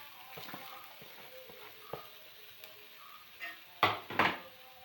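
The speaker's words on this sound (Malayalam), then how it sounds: "ഇനി അതിലേക്ക് വൻപയർ വേവിച്ച് വെച്ചിരുന്നത് ഇട്ട് കൊടുത്ത് പിന്നെ നമുക്ക്" Chopped banana flower and cooked cowpeas are stir-fried in a pan for a thoran, giving a faint sizzle. Soft scrapes and a couple of louder clatters of the spoon against the pan come near the end.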